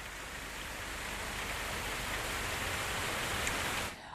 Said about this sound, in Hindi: मुंबई वासी परेशानी में तेज होती इस बारिश से।